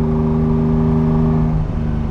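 A 1974 Ferrari 246 GTS Dino's mid-mounted V6 held at revs, a loud, close, raspy engine note with strong steady harmonics, easing slightly in pitch near the end, with no talking.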